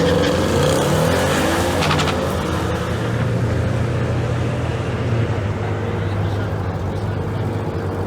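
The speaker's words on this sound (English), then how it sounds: "Look at my car launching and going down the track." A 2018 Ford Mustang fitted with a Whipple stage one supercharger launches hard down a drag strip, its loud engine roar sweeping up through the gears and then settling into a steady drone as it pulls away.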